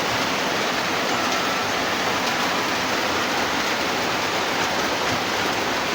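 Heavy rain pours down in a continuous, loud hiss of dense falling water, steady and unbroken throughout, with no voices.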